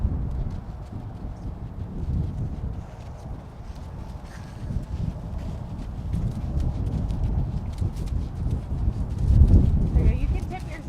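A ridden horse trots on an arena surface, hooves falling in a steady two-beat rhythm at moderate distance, while an instructor talks over the footfalls throughout.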